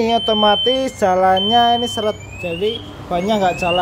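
Anti-theft alarm on a four-wheel KT2 Uwinfly electric scooter, set off when the scooter is forced to move, gives a steady high-pitched electronic tone that runs on under a man's close, continuous talking.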